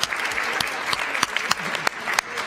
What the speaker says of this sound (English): I want you to give this young man a great round of applause